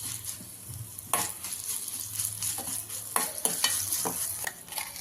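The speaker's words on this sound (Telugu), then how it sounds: "కొద్దిగా తిరువాతలోకి ఇంగ వేద్దామండి" Asafoetida dropped into a sizzling oil tempering for a mint tomato chutney: steady close frying hiss with scraping stir strokes breaking through at irregular moments.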